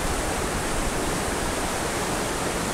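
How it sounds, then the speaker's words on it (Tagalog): The strong current of the Palakol River in Floridablanca, Pampanga, a loud, steady broadband rush of fast water, continuous and close with no voices. "Sobrang lakas ng agos."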